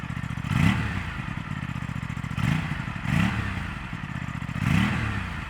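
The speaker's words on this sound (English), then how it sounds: "It sounds more like a V-twin and not like a typical parallel twin." Aprilia RS 457 parallel-twin motorcycle engine revving in repeated bursts, roughly four throttle blips over a steady idling rumble, close and moderately loud.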